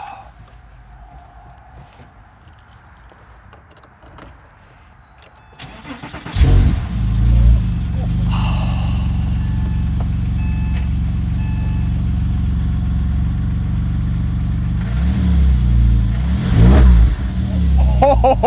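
A Porsche 987 with a rebuilt 4.1L turbo engine starts after a quiet stretch, then idles with a deep, loud rumble and is revved sharply twice near the end.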